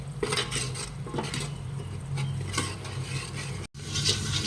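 Thick onion-coconut masala paste stirred in a copper pot, with a steady, close scraping and soft sizzling that continues throughout, broken only by a brief pause near the end.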